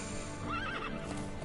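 A horse in the Conan Exiles video game gives a short, clear whinny with a rising and falling neigh, alone and fairly close, with faint clip-clop hooves beneath.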